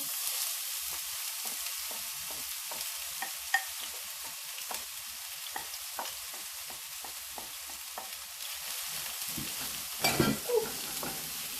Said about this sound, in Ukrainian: Ну що, готую нашу підливочку. Насипаємо цибульку.